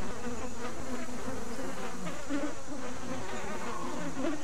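Flies buzz steadily around a carcass in the dinosaur survival game The Isle, a close, continuous insect drone with wavering pitch and no speech.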